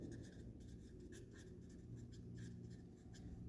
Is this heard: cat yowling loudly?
no